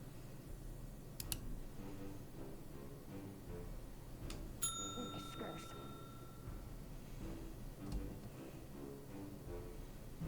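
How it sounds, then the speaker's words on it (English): Bell rung in the video game Nine Noir Lives, a bright metallic ding with a ringing tail heard once near the middle, over a busy backdrop of game music. "Stop ringing the bell."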